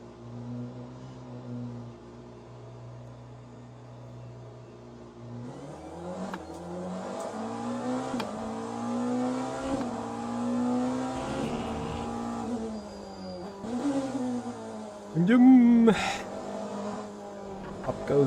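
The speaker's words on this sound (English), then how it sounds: "Up goes the RPM." Porsche race car engine in Le Mans Ultimate, a low idle that climbs into rising revs and throttle blips, growing louder toward a sharp burst near the end, with someone talking over it.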